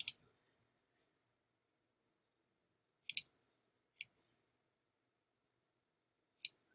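Computer mouse clicks while working in InDesign, a few sharp isolated clicks: one at the start, a quick pair near the middle, and another toward the end, with silence between.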